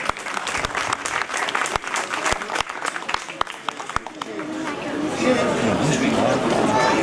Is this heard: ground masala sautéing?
no